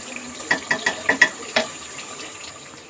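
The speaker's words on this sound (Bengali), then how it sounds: "মাংসে পানি দিয়ে দিছি" Water is poured into a pot of cooking meat for kacchi, heard as a quick run of five or six close splashing bursts followed by a softer trailing hiss.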